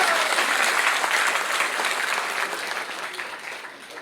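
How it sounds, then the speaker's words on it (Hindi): Steady, dense applause from a crowd at an agribusiness seminar, loud at first and slowly fading toward the end. "जोरदार तालियां।"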